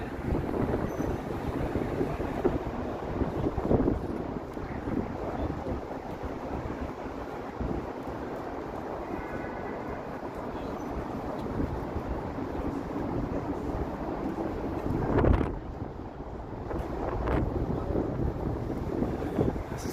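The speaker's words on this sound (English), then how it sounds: "It's a windy part of town." Wind gusting through a downtown Toronto street lined with tall buildings near the lake, a constant broadband rush and buffeting against the microphone that swells briefly past the midpoint.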